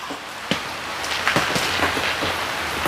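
Rain pours steadily over a vegetable garden, a dense continuous patter with scattered heavier drops ticking on leaves and surfaces, close and fairly loud.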